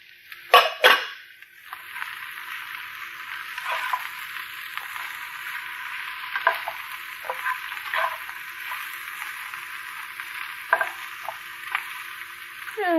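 Mushrooms tumble into a hot pan of sizzling carrots for a crispy tofu stir fry, giving a loud clattering drop at the start, then a steady frying hiss broken by occasional stirring scrapes.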